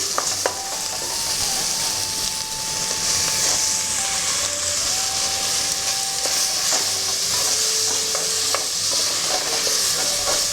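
Tomatoes and cashews fry together in a pan with a loud, dense sizzle and occasional stirring clatter, while a faint steady tone hums in the background.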